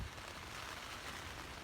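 Rain starting to fall on a tent during a mountain storm, a steady, dense hiss of drops hitting the surface, heard alone.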